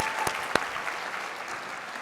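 Fading applause at a closing plenary, a soft diffuse patter of many hands with a couple of sharper claps near the start, settling into a low, steady wash.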